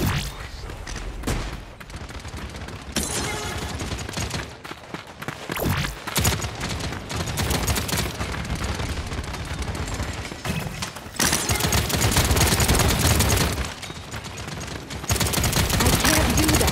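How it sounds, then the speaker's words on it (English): Gunfire in the team shooter Paladins, loud overlapping bursts of shots and impacts in fast irregular volleys with short lulls, mixed with game effects and some speech. "Enemies are firing on me."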